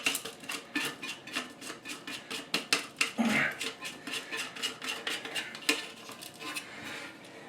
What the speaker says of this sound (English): Go ahead and put the nut on.